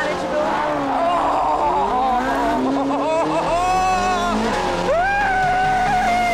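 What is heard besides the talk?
Ferrari 458 Spider driving on a mountain road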